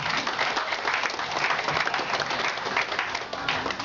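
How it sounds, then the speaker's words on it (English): Guests at a fourth-anniversary party give a steady round of applause, moderately loud and continuous from start to finish, with crowd noise mixed in. "give a round of applause for everybody."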